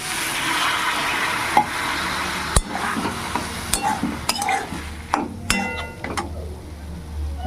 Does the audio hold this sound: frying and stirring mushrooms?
yes